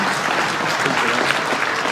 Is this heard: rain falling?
no